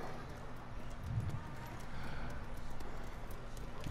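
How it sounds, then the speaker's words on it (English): Horse hooves clip-clop in the Ghost of Tsushima video game, a faint, steady trotting rhythm over quiet background ambience. "Hey, look at these horses."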